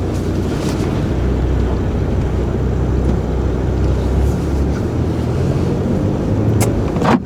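A 2014 Chevy Cruze 1LT RS with a 1.4-liter turbo engine pulls away from a driveway, its steady low engine drone and road rumble continuous and fairly loud throughout, with no talking.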